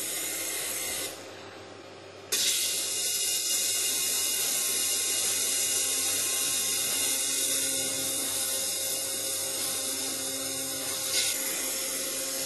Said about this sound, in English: now you can see these parts being separated by the water jet